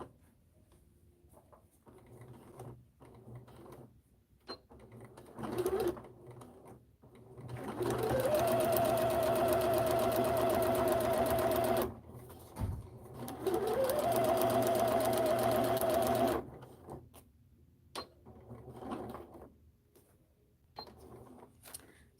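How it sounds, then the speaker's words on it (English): A sewing machine stitches around a box in a home sewing room, running in two sustained bursts of steady whirring with a pause between, plus small clicks and handling noises before and after. "I'm going to sew around the box."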